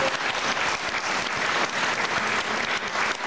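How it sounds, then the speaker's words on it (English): Steady audience applause at a school concert, a dense continuous patter of many hands clapping throughout, with no voices standing out. "So let's give them all a big round of applause."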